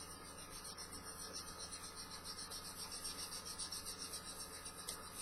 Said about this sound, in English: just kind of keep the sanding stick moving back and forth